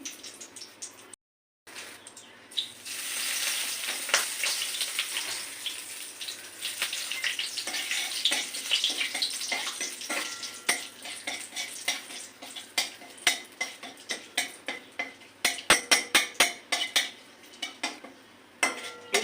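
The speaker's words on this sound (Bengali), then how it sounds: "একটা শুকনো লঙ্কা ফোড়ন দেবো তেজপাতা ফোড়ন দেবো কিছুটা গোলমরিচ ফোড়ন দেবো দালচিনি ফোড়ন দিচ্ছি" Whole spices tempering in hot oil: dried chili, bay leaf, peppercorns and cinnamon, a dense close sizzle with a brief dropout early on, then louder spoon scrapes and clicks growing more frequent toward the end.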